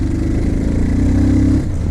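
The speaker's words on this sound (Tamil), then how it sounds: "வண்டியோட சவுண்ட்லேருந்து எல்லாமே வேறு லெவலில் இருக்குதுங்க" A motorcycle engine runs during a test ride, a close, loud mid-pitched drone that holds steady and then drops off near the end, alone with no talk.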